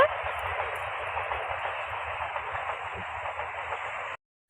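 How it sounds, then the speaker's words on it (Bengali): A steady broadband rushing roar, like a train passing nearby, holds for about four seconds and then cuts off abruptly. "দেখো ওই দেখো ট্রেন যাচ্ছে"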